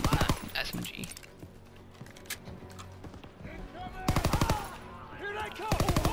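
Rapid bursts of mounted machine gun fire in the Call of Duty WW2 campaign, loud and close with pauses between strings of shots, and a voice speaking in the gaps.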